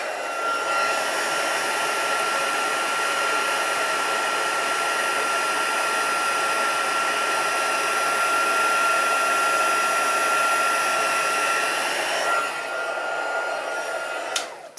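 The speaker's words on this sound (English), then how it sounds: "Turn off my heat tool and pop that away" A craft heat tool blows steadily at close range for about twelve seconds, a constant loud airy whoosh with a faint high whine, then cuts off and leaves a quiet room with a small knock near the end.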